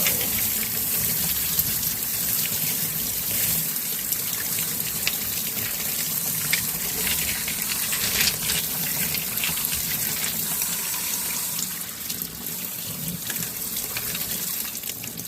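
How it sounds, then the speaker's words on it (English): Running water gushes steadily from a tap as a rock tumbler's barrel liner seal is rinsed off, a continuous broadband splash with no talk over it. "Rinsing off the seal"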